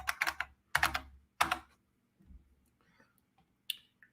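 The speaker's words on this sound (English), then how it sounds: "I'm about to type. All of you snowflakes that can't stand clicky typewriters" A clicky typewriter-style keyboard gives three sharp bursts of rapid key clacks, followed by quieter, scattered taps and a final click, close up and with no talking.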